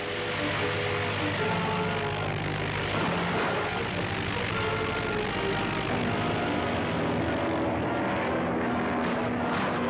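A propeller airplane drones steadily through its takeoff run, a loud, constant engine hum with layered tones that shift partway through.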